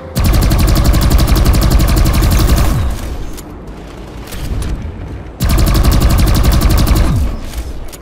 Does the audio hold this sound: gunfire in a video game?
yes